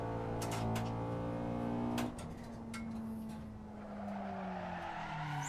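A Toyota MR2 with a 1.4 liter inline-four engine revs while being driven, its note climbing and then dropping at a gear change before building again, steady and close.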